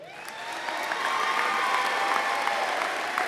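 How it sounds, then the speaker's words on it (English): Applause from an audience at a high school college signing ceremony, rising quickly into a steady, dense wash of clapping that holds for a few seconds, with faint cheering mixed in. "Let's give him a big round of applause"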